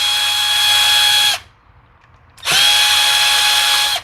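A power drill taking apart an Echo SRM 225 trimmer, two loud close whirring bursts with a short quiet gap between, no talking.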